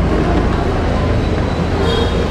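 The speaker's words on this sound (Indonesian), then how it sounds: "Ini keretanya masuk di jalur 6, jalur yang biasa untuk KRL" Majapahit train carriages rumble at Pasar Senen station in Central Jakarta in the morning, a dense, loud, steady rolling noise heard up close with no speech.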